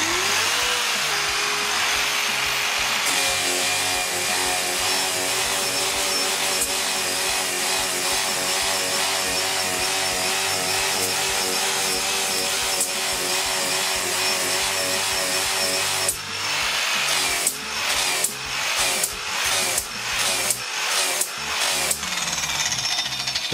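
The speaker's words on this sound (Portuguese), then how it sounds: "Então essa aqui é uma lixa 120, tem um acabamento bom, uma excelente remoção." A belt sander fitted with a 120-grit belt runs with a steady, loud grinding roar for a long stretch, then its tone breaks into a series of rhythmic surges as the workpiece is pressed and lifted.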